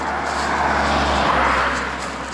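A truck passing by on a road in Cheb, Czech Republic, a loud, steady rumble that swells and slowly fades as it goes by, with no voices.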